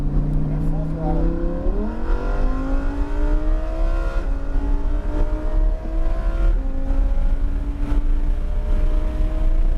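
A Lamborghini on the Palm Beach International Raceway track accelerates at full throttle, its close, loud engine rising steadily in pitch through successive gear changes while an instructor speaks over it.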